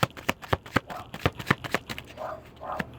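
Tarot cards being shuffled by hand, a run of sharp riffling snaps and soft slides in an uneven rhythm, close and fairly quiet, with no talking.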